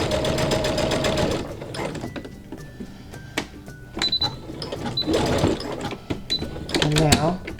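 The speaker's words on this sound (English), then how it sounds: "sew down the other end. We'll sew a few times." A sewing machine stitches down the end of a fabric running headband in bursts of rapid mechanical whirring, with pauses between, while a person talks over it.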